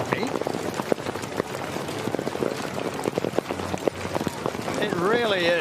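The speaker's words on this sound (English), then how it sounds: "It really is bucketing down here." Heavy rain and hail pelt down on Bay Oval cricket ground in a dense, continuous patter of sharp hits and splashes, with a crowd murmuring and a voice speaking over it near the end.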